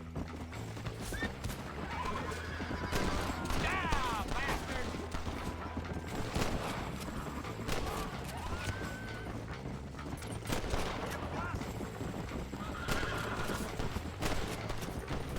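A horse in Satisfactory neighs several times over steady clip-clopping hooves, fairly close and continuous, with bursts of gunfire-like crackle mixed into the game sound.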